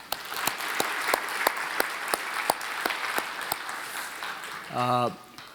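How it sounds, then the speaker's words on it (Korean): A congregation at a Korean church Bible study session claps in a lively, fairly even rhythm of distinct claps, ending with a short tonal sound near the close. "자, 박수 한번 쳐볼까요?"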